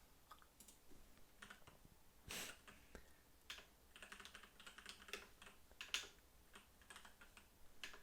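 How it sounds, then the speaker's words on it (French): Typing on a computer keyboard, with soft, quick keystroke clicks in irregular bursts and short pauses, faint and close, with no voices. "J'arrive pas à écrire avec ce clavier, j'ai des gros doigts."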